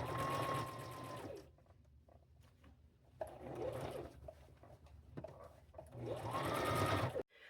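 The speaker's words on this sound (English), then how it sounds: "I'm fixing to sew the sides together" A sewing machine stitches the sides of a dress sewn from jeans and quilt fabric, running in three bursts of fast mechanical whirring with quiet handling pauses between.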